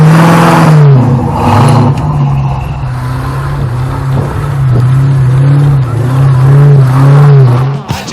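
A 1994 Land Rover Range Rover Classic drives along with a steady, loud engine drone and road hum that rises and dips slightly as it goes, continuous throughout with no talk.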